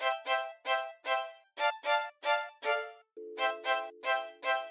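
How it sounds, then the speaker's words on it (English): Cello line in an FL Studio beat, a series of short bowed notes in a steady rhythm, then a lower sustained note under the final few strokes, sounding alone and clear. "I also added this cello."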